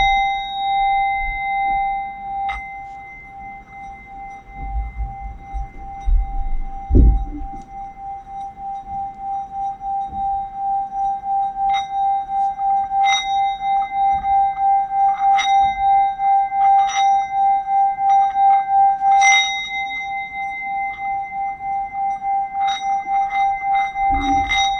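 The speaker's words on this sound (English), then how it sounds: "I got to hit the bell. Throat chakra singing bowl." A throat chakra singing bowl is struck and left to ring, its steady metallic hum sustaining and pulsing throughout while light clinks and taps sound intermittently over it.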